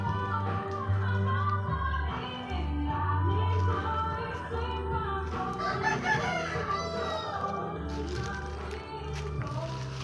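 Young roosters (stags) in a pen crow and cluck, their calls overlapping continuously at a moderate distance over a low, steady background.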